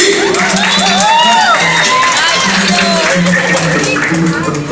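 Audience at a debutante waltz celebration applauding and cheering, a dense continuous wash of clapping with whoops and shouts over music, loud and sustained.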